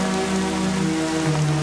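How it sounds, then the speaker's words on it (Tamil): Steady rain falls on a surface in a Tamil TV serial scene, a continuous, moderately loud patter without any talking. "மழை பெய்யுது"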